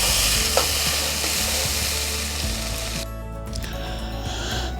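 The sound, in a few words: stirring and frying spice paste in pan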